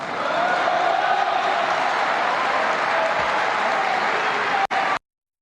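Lawmakers in the Argentine Congress applaud during a budget address, a steady, full wash of clapping from a large chamber that runs unbroken for about five seconds before cutting off abruptly.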